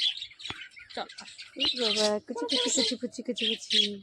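A bird calls in a run of clear, repeated chirps and squawks, close and fairly loud, with short bursts separated by brief gaps and some faint background noise.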